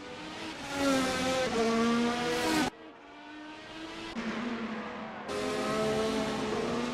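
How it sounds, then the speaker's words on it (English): A race car in a racing game at Interlagos spins out through a turn with its rear tires sliding, the engine revving loudly and steadily without any voices. "spinning out his car coming through turn number 2, lighting up the rear end and potentially getting stuck into a wall"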